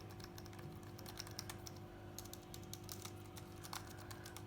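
Steady typing on a compact full-size computer keyboard, a quiet continuous patter of keystrokes at close range over a low background hum.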